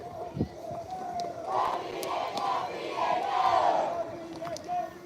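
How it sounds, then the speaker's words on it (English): A baseball crowd at an Alabama vs Georgia World Series bracket game cheers and shouts in a loud, swelling roar that rises and falls over several seconds, with a sharp thud near the start. "The whole crowd behind us getting real fired up."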